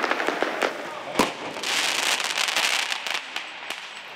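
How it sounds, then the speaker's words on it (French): Fireworks go off in a housing estate at night. Several sharp bursts and crackling pops sound at a moderate distance, followed by a sustained fizzing crackle. "8 tirs de feu d'artifice qui proviennent du cœur du quartier"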